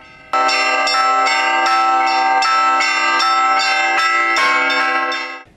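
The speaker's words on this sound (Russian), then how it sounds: "Радующий душу перезвон впервые за последние полвека можно было слышать в хуторе Курган" Church bells ring out in a loud, rich peal in the village of Kurgan, repeated strikes overlapping with long ringing tones that fade at the end.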